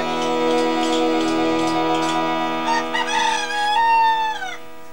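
A rooster crows loudly and close, one long drawn-out cock-a-doodle-doo with bright harmonic tones that rises and then trails off near the end, with a faint ticking beneath.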